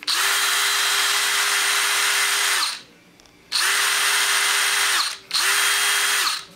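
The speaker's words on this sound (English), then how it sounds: "The DeWalt doesn't have the brake, that's why it doesn't sound as strong." A DeWalt cordless drill without an electric brake runs at speed one in three loud bursts of steady whine, each trigger release letting the motor coast down gradually into brief quiet before it spins up again.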